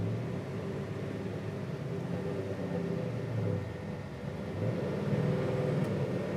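A 1970 Chevrolet Chevelle SS engine rumbles low and steady from inside the car, a muffled droning growl that rises slightly toward the end with no speech.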